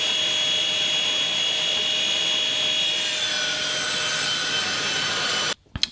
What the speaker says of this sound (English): we can continue by cutting the notch for the bottom at the table saw